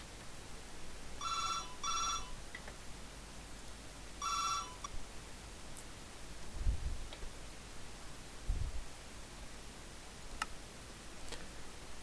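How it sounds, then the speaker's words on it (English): Telephone rings in two short bursts and then a third, a bit distant and moderate in volume, during a Minecraft play session with quiet background ambience and a couple of low thumps later. "Oh, and there's the phone."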